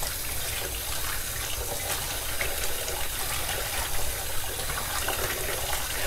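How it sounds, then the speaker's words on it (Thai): Tap water gushing steadily into a basin to wash Isan-style pickled vegetables, a continuous loud rushing splash throughout, close with no talking. "เปิดน้ำล้างนะครับ ล้างทั้งหมด3น้ำนะครับ"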